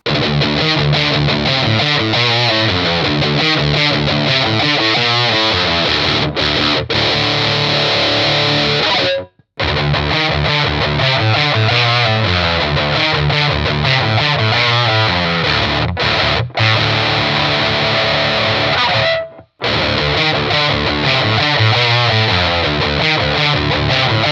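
Heavily distorted high-gain electric guitar, an Ibanez Prestige RG in drop D, chugs and rings out loud and dense, with riffs broken by two brief full stops before the playing resumes.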